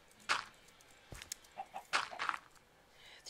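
A few short chicken clucks and squawks at a distance in Minecraft, scattered over quiet outdoor background, with one low thump partway through.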